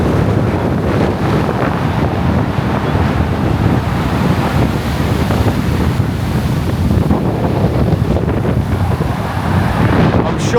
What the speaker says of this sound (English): Sure you can hear it just how windy it is.